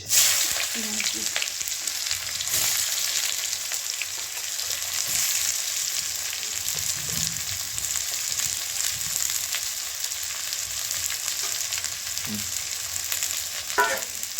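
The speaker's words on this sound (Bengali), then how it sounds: "দিয়েছি গোটা গরম মশলা, শুকনো লঙ্কা, এরপরে দিয়ে দিচ্ছি পেঁয়াজ" Onions frying in a hot kadai with whole garam masala and dry chillies for mutton curry, a steady loud sizzle lasting throughout with occasional stirring scrapes.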